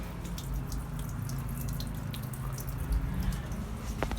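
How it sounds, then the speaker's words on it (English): Water runs from the outflow pipe of a bog filter on a DIY wine barrel pond, a steady close gushing and trickling with small drips and splashes, continuous and fairly loud, with no voices. "So at the moment the filter water's going out there"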